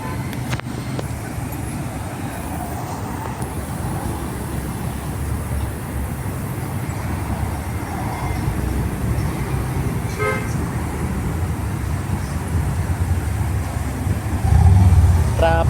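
Busy road traffic rumbles steadily while car horns toot intermittently, one sharp honk standing out midway and a heavier vehicle swelling louder near the end.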